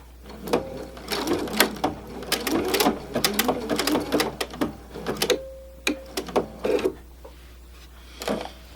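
A home sewing machine stitches an inkle-woven bookmark, running in short bursts of rapid mechanical clatter with pauses, briefly reversing for a few stitches; close and fairly loud with no talking.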